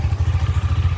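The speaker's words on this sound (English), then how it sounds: "I think it's best to start the engine once" A Duke motorcycle engine runs close by with a loud, steady, low throbbing pulse.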